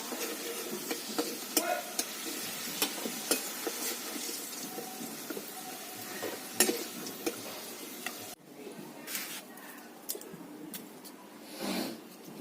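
Vegetables fry in a hot pan, a steady close sizzle broken by sharp scrapes and taps of a stirring spoon, dropping to a quieter, sparser crackle near the end.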